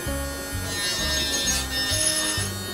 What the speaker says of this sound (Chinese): 我决定我还是用电动打磨机吧，用电动的总没有那么累了吧。